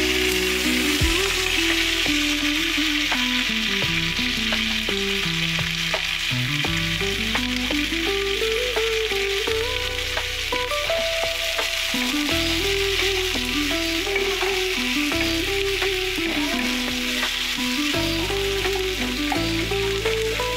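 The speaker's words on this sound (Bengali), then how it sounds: "এগুলোকে আমি একটু ঘিতে ফ্রাই করব" Onion, garlic, tomato, ginger and chili frying in ghee in a wok give a loud, steady sizzle the whole way through, with a clear melodic tone running over it and no talking.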